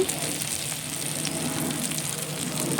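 Ginger-garlic paste with cumin, coriander and chili powders sizzles steadily in a pan during the making of a jackfruit curry, a close, continuous crackling fry with no speech.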